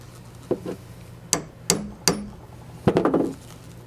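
Several sharp metallic hammer strikes setting a rivet into leather for a fast-draw holster, spaced unevenly, ending in a quick cluster of taps, close up in a quiet room.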